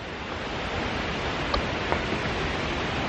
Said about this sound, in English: We are at the Linville River